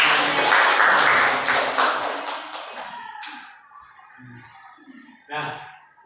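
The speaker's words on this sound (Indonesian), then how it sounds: "tepuk tangan untuk kita semua" A room of seminar participants claps together in a brief burst lasting about three seconds, which fades out and is followed by quiet speech.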